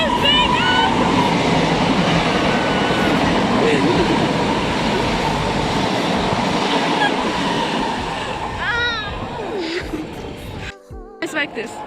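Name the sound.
train passing by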